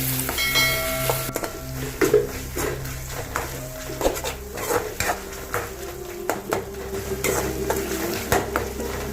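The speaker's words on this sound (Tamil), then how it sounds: "இஞ்சி பூண்டு பேஸ்ட்டு போட்டு நல்லா வதங்கணும்." Ginger garlic paste sautéing in a pan for paneer gravy, a low sizzle under repeated clinks and scrapes of a spoon against metal, stirred steadily throughout.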